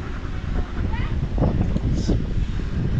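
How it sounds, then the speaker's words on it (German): Wind gusts outdoors roar steadily across the microphone as a constant low rumble, with a voice speaking briefly over it. "Es ist sehr windig hier."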